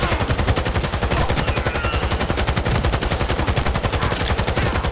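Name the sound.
gunfire from a gun in the Cyberpunk 2077 video game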